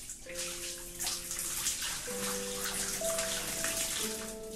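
Water splashes and trickles steadily from a bucket onto dead flowers in the video game Homesick, a continuous close watery pouring with soft tonal game music running underneath.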